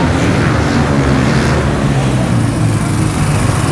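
A racing motorcycle engine runs loud and close as it is tuned in a race paddock, giving a continuous buzzing roar that never drops away for the whole span.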